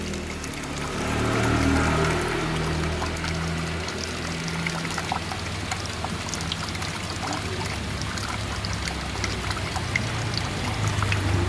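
Water trickles steadily from the outlet pipe of a coin-operated water ATM as the dispenser shuts off, a continuous close pouring and splashing stream with no talk.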